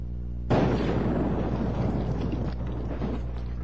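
Large-calibre gun fired at a car's gas tank on a farm, setting off a sudden deep boom that rolls into a dense roaring rumble and crackle, staying loud and near for several seconds.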